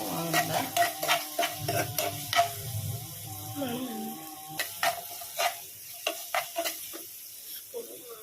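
Sliced onions sautéing in a pan for ghee rice, with a soft sizzle beneath repeated sharp scraping and clinking strokes of a spoon against the pan, close and irregular, without talk.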